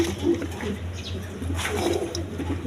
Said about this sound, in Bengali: দর্শকবৃন্দ এইখানে আরেক পেয়ার গররা কবুতর আছে দেখেন